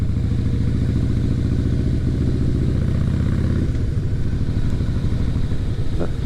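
A big motorcycle engine rumbles steadily while the bike is ridden, a loud, continuous, throbbing drone that shifts briefly partway through as the rider changes pace, with no talking.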